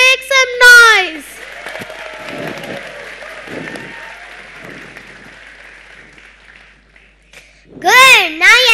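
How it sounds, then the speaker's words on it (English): Young primary school children in a show audience burst into applause and excited shouting. Clear voices ring out at the start and at the end, with softer clapping and chatter in between. "come on, clap and make some noise"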